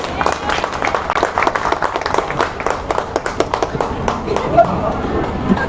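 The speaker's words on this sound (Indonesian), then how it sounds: "Tepuk tangan untuk Adelia Putri." Applause from the audience at an open graduation exam for students of an Islamic boarding school: dense, busy clapping from many hands, fairly loud and close, with voices murmuring underneath throughout.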